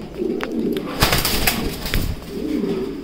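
A male fancy pigeon coos in low, throaty rolling calls at the start and end, with a burst of sharp fluttering and clattering in between, close by and without speech.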